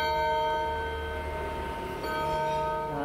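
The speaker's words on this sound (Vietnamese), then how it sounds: "tiếng chuông của nó ngân rất là hay luôn" A Japanese clock's chime rings on, a sustained resonant bell tone with a fresh strike partway through, close and alone.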